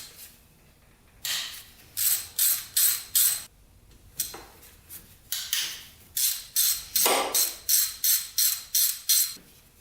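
A ratchet wrench clicks while valves are adjusted on a Yamaha Warrior 350 ATV engine, bursts of quick ratcheting strokes in several runs with short pauses between, close and moderately loud, no voices.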